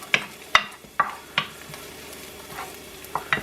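Ten garlic cloves frying on low heat in a pan, a soft sizzle under sharp clinks and scrapes of a utensil stirring every half second or so, close and fairly faint.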